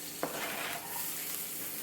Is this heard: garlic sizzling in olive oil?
yes